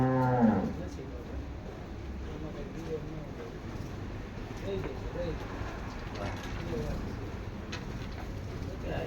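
A water buffalo at an animal hostel gives a loud, low moo at the very start, then background farm noise and people talking carry on steadily for the rest.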